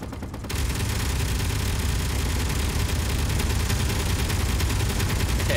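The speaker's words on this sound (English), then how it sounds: "both my turrets are firing." Spaceship turrets in a video game fire a continuous, dense rattling barrage that kicks in abruptly after a brief quiet start and holds steady and loud throughout, with no talk.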